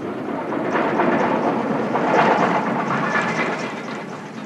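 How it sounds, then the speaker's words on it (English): An 1895-built Peckett steam locomotive hauls a single-coach colliery staff train, a steady rolling rumble with faint rail clatter, continuous and moderately loud with no voices. "Now for the staff train, known as the paddy, with the Peckett again"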